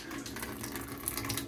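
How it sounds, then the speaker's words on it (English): Water from a reverse osmosis system's air gap trickles into a bowl under a sink, a steady, soft splashing flow heard close up with no talking. "you're going to notice water is going to be dripping from here. So it's going to be dripping into the bowl, not into the drain."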